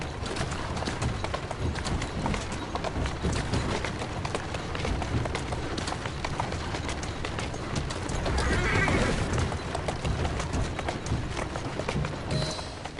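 A horse in Assassin's Creed Syndicate whinnies and its hooves clip-clop steadily on a street, running throughout beside carriage rumble, with a louder neigh swelling near the middle; no clear talk.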